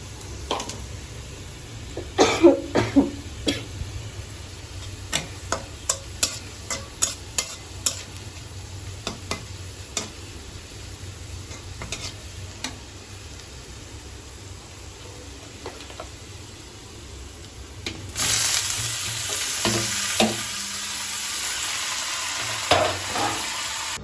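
Leafy greens frying in a pan on a home kitchen stove, with a continuous sizzle and repeated sharp spoon scrapes and taps, close by, a louder hiss later in the clip, and a cough or throat-clearing in the mix.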